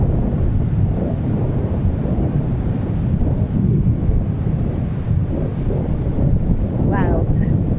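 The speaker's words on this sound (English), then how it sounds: "So, crashing waves out there" Sea waves crash continuously on a breezy Bulgarian beach, with heavy wind buffeting the microphone into a loud, dense roar throughout.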